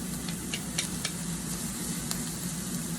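Under a tablespoon of butter sizzling and melting in a pan, a close, even crackling hiss with no voices.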